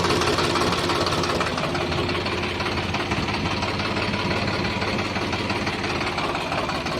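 A Swaraj 735 XM tractor engine, a 2011 model with power steering, runs at a steady, continuous idle, loud and close throughout with no voices.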